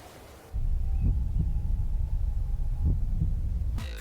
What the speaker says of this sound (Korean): 소녀가 고개를 돌리자 들리는 심장소리